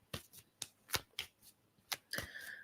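Tarot cards being shuffled by hand, a series of sharp riffling snaps at an uneven rhythm, close and quiet, ending in a longer card riffle.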